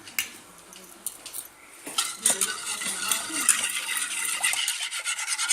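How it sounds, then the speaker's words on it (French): A whisk stirs a sugary lemon mixture for a Swedish lemon tart in a bowl: light scraping and clinking strokes, sparse at first, then quicker and more continuous, close by. "نحركو مزيان بالفوين"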